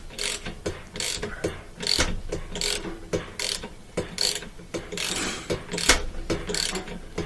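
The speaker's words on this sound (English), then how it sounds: "It kind of holds it while you're spinning that bolt off." Ratchet spinning the rotor bolt off an LG washing machine, a rapid series of sharp clicking bursts in quick repeated strokes, loud and close with no talk.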